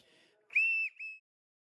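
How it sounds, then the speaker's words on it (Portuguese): A railway station master's small whistle gives two short shrill blasts, the first longer and slightly warbling, the second brief, sounding close and clear after a faint murmur. "Apito pequeno, ele apitava, fazia uns trinados com isto, vamos ver se isto ainda apita."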